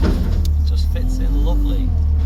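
A JCB's diesel engine hums low and steady close by as the machine tilts to tip an old power harrow into a scrap trailer, with someone talking over it.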